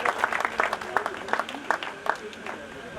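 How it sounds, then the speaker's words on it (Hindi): Clapping rings out for a selected police driver candidate at a Delhi selection ceremony, with distinct, uneven hand claps from a smallish group close by, and voices audible underneath. "तालियां सोनू भाई के लिए"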